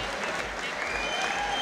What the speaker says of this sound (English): please, a massive round of applause for both fighters.